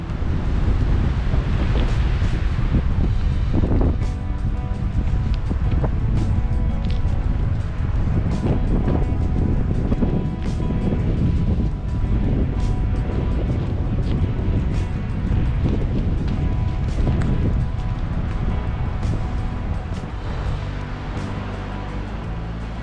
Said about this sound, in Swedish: Det blåser här.